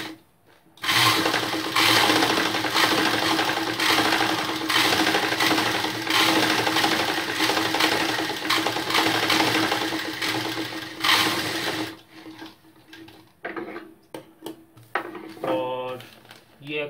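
A sewing machine runs in one long steady burst as it stitches a blouse back neck, then stops and starts in short bursts with fabric handling and brief speech in between.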